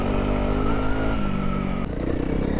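A Honda CRF300L or KTM Duke 200 motorcycle rides off-road among trees on the Trans Euro Trail in Greece, its engine loud and close, droning steadily with a slight change in pitch partway through.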